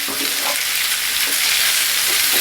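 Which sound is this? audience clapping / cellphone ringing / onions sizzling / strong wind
onions sizzling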